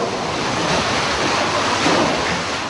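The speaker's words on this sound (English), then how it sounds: "you can see the water, the surge is dramatically risen here" Hurricane storm surge floodwater churns around a hotel that is flooded up to the first floor, heard from four stories up beneath a loud, continuous roar of wind and surf with no break.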